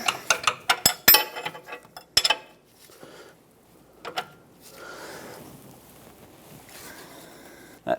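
Hand wrench tightening a locking nut on a front lower control arm of a Hyundai Accent, a burst of sharp metallic ratchet clicks, then scattered clanks and a soft scraping rustle, close and alone.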